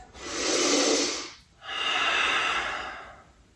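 Two long, deep breaths during yoga practice, a smooth airy inhale followed by a slightly shorter exhale after a brief pause, close and clearly audible, with no talk.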